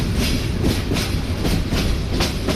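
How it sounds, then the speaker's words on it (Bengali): The Mohanganj Express rolls into Gafargaon railway station in Bangladesh, with close, loud, rhythmic clickety-clack of wheels over rail joints under a continuous rumble. "ধীরে ধীরে মোহনগঞ্জ এক্সপ্রেস প্রবেশ করে তার দ্বিতীয় যাত্রাবিরতি স্টেশন গফরগাঁও রেলওয়ে স্টেশনে।"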